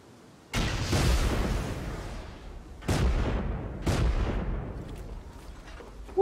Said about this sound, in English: stand clear of the rocket launchers